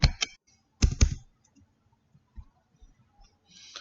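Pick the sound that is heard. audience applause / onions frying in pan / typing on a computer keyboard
typing on a computer keyboard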